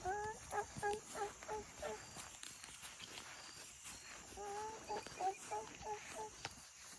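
Two bursts of rapid, warbling turkey gobbles sound from a moderate distance, separated by a stretch of quiet outdoor noise.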